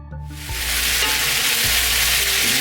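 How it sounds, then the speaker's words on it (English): Vegetables for a vegetable biryani fry in a pan, giving a steady, loud broadband sizzle that fills the clip, with occasional low knocks from the spoon as they are stirred. No one speaks. "we're going to go again for about another 3 or 4 minutes, stirring pretty much all the time"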